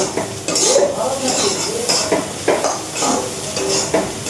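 Close, continuous sizzling of potatoes frying, with a spatula repeatedly scraping and clinking against the pan as they are stirred.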